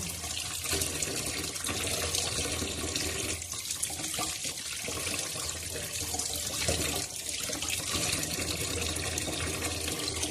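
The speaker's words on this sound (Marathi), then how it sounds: "आपण छान असे बांगडा मच्छी स्वच्छ असे धुतलेले आहे" Running tap water pours steadily over bangda mackerel fish as they are rinsed, making a continuous close splashing hiss for the whole stretch with no speech.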